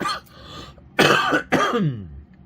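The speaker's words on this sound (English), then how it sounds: "sorry for the coughing" Three harsh, loud coughs close to the listener, spaced unevenly, the last one trailing into a throaty rasp.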